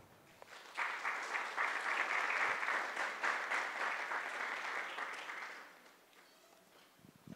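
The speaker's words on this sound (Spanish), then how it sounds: "Para él también un fuerte aplauso." A crowd at a climate change conference breaks into applause that holds strong for several seconds, then gradually thins out and fades.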